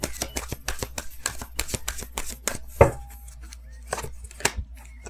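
Tarot cards shuffled and drawn, a run of quick crisp riffling snaps close up, then a single sharp slap and a few softer card flicks, quiet otherwise.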